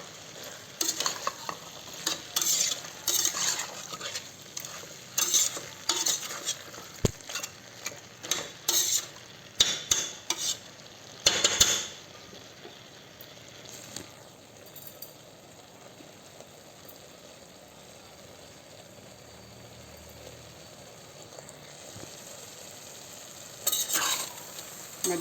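Mutton curry is stirred in a pan with repeated scraping and clinking strokes over a sizzling fry. The stirring is busy for the first half, then eases into quieter simmering with one more burst of scraping at the end, with no talking.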